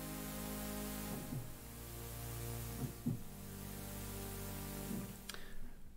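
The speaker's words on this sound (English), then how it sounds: "You got a nice fizzy pad now." A fizzy synth pad patch from Omnisphere sustains as a thick, steady drone with a buzzing upper haze, a few soft swells and bumps rising through it, played alone.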